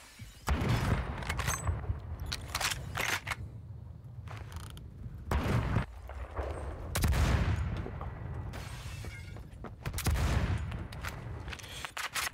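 Gunfire from the online shooter Phantom Forces comes in repeated bursts and volleys with booming hits, loud and busy through the whole stretch, with no talking over it.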